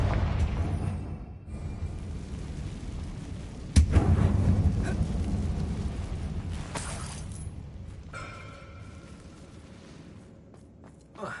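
Bombarda explosion spell detonates inside a mine in the Hogwarts Legacy video game, a sharp loud crack followed by a long rumbling decay, with softer impacts and faint footsteps trailing off.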